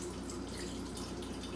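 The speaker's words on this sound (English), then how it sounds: "Drain the chicken." Liquid draining from a can of chicken into a sink while making taco soup, a soft continuous trickle and drip heard faintly and alone.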